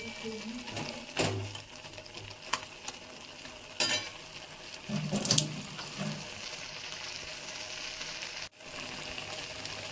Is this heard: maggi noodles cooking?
yes